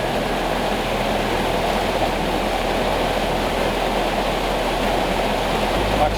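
Waterfall with an upper fall, a steady, loud broadband rush of falling water continuing unbroken and close.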